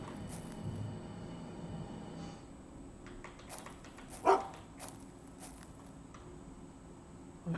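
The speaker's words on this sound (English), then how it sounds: "I assume he's barking about the bird." A hunting dog in the survival game UnReal World gives a single distinct bark partway through, standing out against a faint background of soft game ambience and scattered light sounds.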